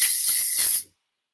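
Hair styling spray from an aerosol can, one steady hissing burst of just under a second that cuts off sharply into silence, loud and close.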